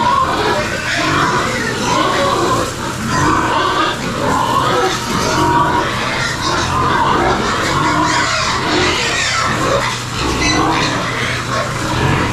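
A power sprayer on a pig farm, losing pressure, runs as a constant loud hissing roar with a low mechanical hum underneath, and pig grunts mixed into the steady wash.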